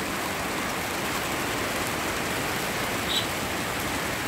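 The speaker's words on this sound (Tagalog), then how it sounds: "Ang lakas ng ulan." Heavy morning rain in the Netherlands falls in a steady, dense hiss that fills the whole stretch, loud and constant with no voices.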